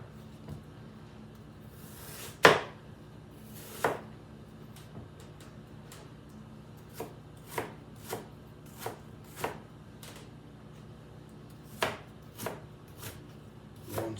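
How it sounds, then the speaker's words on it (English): A knife slices vegetable wedges into thin planks on a cutting board, producing distinct chopping taps, with one sharp louder knock early on followed by a steady series of lighter, evenly spaced cuts in a quiet room. "cut like thin planks of wood on them, like 2 or 3 layers"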